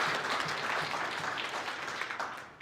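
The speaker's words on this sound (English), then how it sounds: "So everybody give yourself a round of applause for showing up." A full room of attendees at a funding-success event applauds: a soft, even wash of many hands clapping at some distance, holding steady before tapering off toward the end.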